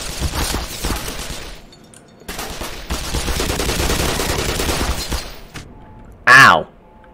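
Sustained automatic SMG fire in the video game Black Mesa, dense rapid bursts filling most of the span with a brief pause between volleys, followed by a short sharp louder noise near the end.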